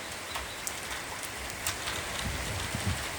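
Heavy rain pours steadily onto a forest, a dense continuous hiss with scattered louder drops close by, heard alone with no talk.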